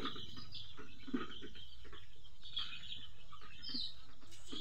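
Ten-day-old chicken chicks in a brooder give soft, scattered peeps and chirps, faint and a little distant, with no voices.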